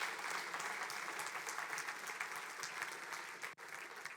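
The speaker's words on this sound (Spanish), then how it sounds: "Dale un aplauso a la palabra." Church congregation applauds during a sermon, a steady, even burst of clapping from many hands, heard somewhat distant and soft, without a break for the whole stretch.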